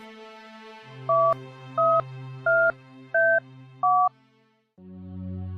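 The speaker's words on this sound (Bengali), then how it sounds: "দেখি বিপুলকে একবার ফোন করি।" Cartoon telephone dialing: five evenly spaced two-tone keypad beeps over a low steady hum, then a brief pause and a new tone.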